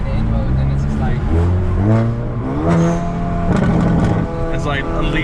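Hyundai Veloster N with a dual-clutch transmission and bolt-on upgrades accelerates hard from inside the cabin, engine pitch rising through quick gear changes while someone talks over it.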